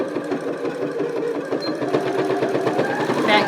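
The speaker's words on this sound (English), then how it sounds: "And then sew the rest of the way down." A sewing machine stitches fabric for a 3D mask, a steady close mechanical whirring with rapid needle clatter that runs unbroken and rises slightly at the end.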